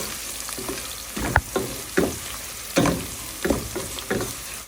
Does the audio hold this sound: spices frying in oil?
yes